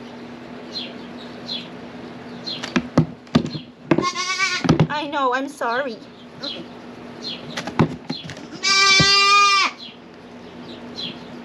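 A LaMancha goat on a farm bleats in protest while its tail is tattooed, giving two loud, wavering bleats amid rustling and clicks, with a person speaking softly between them.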